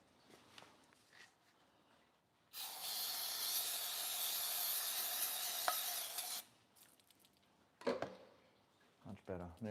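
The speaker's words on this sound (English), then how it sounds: "I'm going to grab some brake cleaner." An aerosol can of brake cleaner sprays in one loud continuous hiss of about four seconds during a 79 Series Toyota Landcruiser service, with quieter handling sounds and faint talk before and after.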